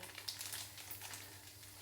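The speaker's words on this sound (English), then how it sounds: "I can hear it starting to sizzle though." Soft, steady sizzling of curry paste in a pan without added oil, quiet and continuous, with a faint low hum underneath and no talking.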